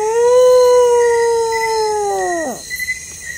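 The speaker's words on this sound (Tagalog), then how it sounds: "Tumatahol, umuuwang." A dog howls at night, one long sustained wavering howl that slides down and breaks off, followed by faint background noise; loud and close, no speech.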